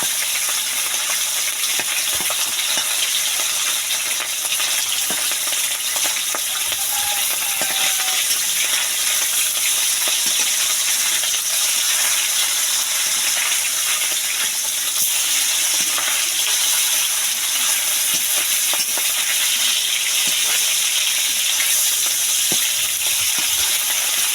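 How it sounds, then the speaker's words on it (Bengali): Brahmi greens and potatoes fry with a continuous dense sizzle, broken by scattered clinks and stirring taps against the pan, with no voices. "আর এই যে দেখো, ব্রাহ্মী শাক আর আলু ভাজা করে নিচ্ছি।"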